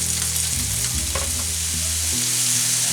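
Leftover courgette and red and yellow peppers sizzle loudly in a hot pan, a dense continuous frying hiss with stirring scrapes and low thumps, close up and with no voices.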